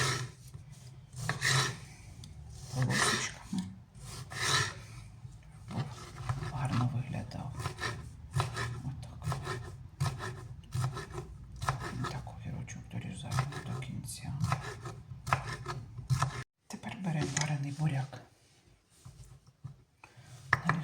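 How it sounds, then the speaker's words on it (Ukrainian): A knife slices pickled cucumbers into thin strips on a board, a quick run of close, rasping cuts repeating steadily with short pauses for about twenty seconds. "Так, огірки будемо різати."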